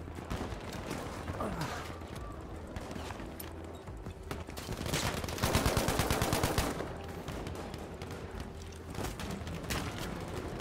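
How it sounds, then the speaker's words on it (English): Rapid bursts of automatic gunfire from a gun in the shooter game Battlefield 5, loud and close, firing in repeated strings of fast shots against a busy battlefield backdrop. "Just a tiny little bit and you shoot this gun like a laser beam."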